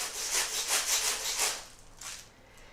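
Plastic shaker egg filled with beads, shaken in a steady rhythmic pattern of about eight bright, gritty rattling bursts before easing off, close and alone with no voices.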